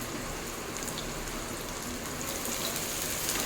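Chopped onion and a slit green chilli fry in hot oil, giving a steady, dense sizzle that hisses evenly from start to finish with no voices.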